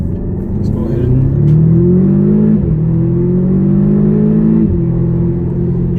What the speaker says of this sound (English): I definitely am hearing like a little bit of pop coming off the exhaust